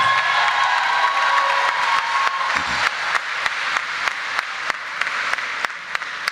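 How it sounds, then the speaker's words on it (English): A large commencement crowd applauds graduates with loud, sustained clapping, scattered cheers and whoops, sharp individual claps standing out near the front. "Let's give these graduates another round of applause."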